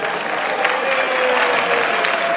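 Steady, dense applause from an audience at a conference on youth, politics and Europe in Sapri, sustained at an even level throughout with no talking over it.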